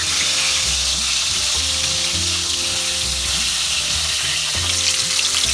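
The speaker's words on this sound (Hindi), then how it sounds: "तेल गरम हो गया है। अभी हम परवल शैलो फ्राई करेंगे" Pointed gourd (parwal) shallow-fries in hot oil over a medium flame with a loud, continuous, crackling sizzle close by, under a low droning hum.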